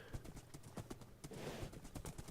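A horse gallops in Minecraft, its quick rhythmic hoof clip-clops repeating steadily at a fast pace, faint and alone without talk.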